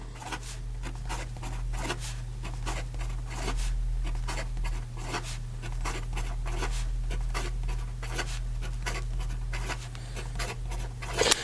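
A Lamy AL Star fountain pen with a fine nib scratches quickly across paper in steady, rapid strokes, close and fairly prominent over a low constant hum, no voices.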